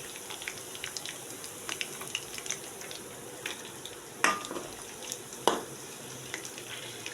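Chicken pieces frying in a pan, a soft steady sizzle with occasional utensil clinks and scrapes, two sharper clatters standing out near the middle, no talking.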